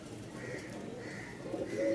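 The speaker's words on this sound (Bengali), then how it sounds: "আরও এক জোড়া রাজশাহী গিরিবাজ একদম হলুদ চোখের" A pair of yellow-eyed Rajshahi Giribaz pigeons coo softly and repeatedly nearby, with the low rolling calls growing a little louder toward the end.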